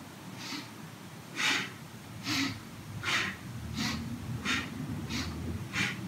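Breathing during a twisting yoga stretch meant to stretch the spine, with slow audible exhales and inhales repeating at a steady pace, about eight soft breath pulses, close and alone without talk.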